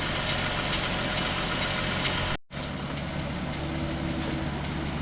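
A 2000 VW Eurovan engine idles steadily up close after its coolant reserve tank is replaced, a constant low rumble with a brief dropout in the middle.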